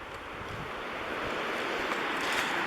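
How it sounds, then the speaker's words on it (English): Steady broadband rushing of running water at the bottom of Fontana Dam, continuous and fairly soft, with a faint hiss and no voices. "And you can actually hear water running in the bottom"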